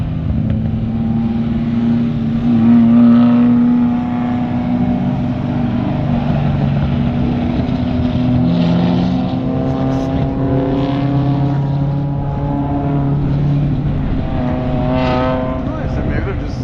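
A car with four passengers drones steadily at close range on a race track, rising and falling in pitch as it accelerates, with people talking over it throughout.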